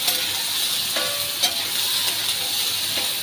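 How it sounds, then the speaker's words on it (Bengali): A loud, even sizzle comes from pickle being stirred in a hot pan, with a few soft scrapes and clinks of the spoon over the frying. "তো এখানে দেওয়ার পরে আমি এটা একটু নাড়াচাড়া করে নেব ঠিক 2 মিনিট।"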